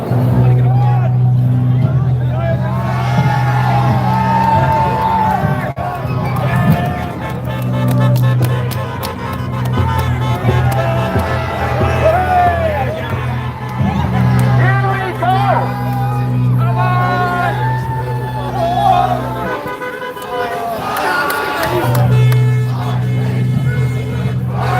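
Large crowd at a protest march against violence in Letterkenny, a steady close hubbub of many voices with scattered shouts and whoops over a continuous low drone, lasting throughout.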